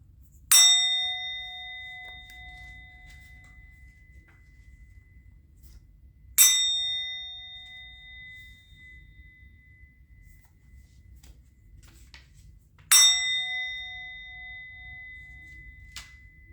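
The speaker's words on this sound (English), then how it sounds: "I'm going to ring the bell." A bell is struck three times at slow, even intervals, each a bright, clear ding that rings out and fades gradually over a quiet background hum.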